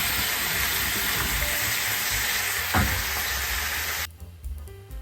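Tomatoes added to onions sizzling and frying in a pan for brisket birria, a steady loud hiss that cuts off sharply near the end, leaving quieter clinks and stirring.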